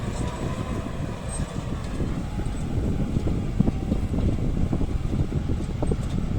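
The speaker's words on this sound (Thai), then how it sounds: "รถไถนะสีเขียวอ่อนครับ สัญชาติเยอรมนนี" A light-green German CLAAS Talos 130 tractor with a turbo engine pulls a seven-disc plough through a field after a harvester, giving a steady low diesel rumble and rattle with wind noise throughout.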